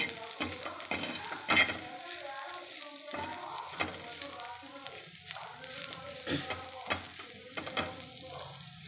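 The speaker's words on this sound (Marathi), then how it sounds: "मस्त अशी परतून घ्यायची बघा" Radish greens sautéing with turmeric, asafoetida and red chili in a pan, softly sizzling under irregular scraping and tapping stirs of a spatula, fairly quiet and close.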